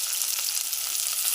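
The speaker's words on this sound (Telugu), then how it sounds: "నూనె మంచిగా అయినాక ఉల్లిగడ్డ వేసుకోవాలి" Onions frying in hot oil for mutton curry, a loud dense hiss and crackle held steady and close, with no speech.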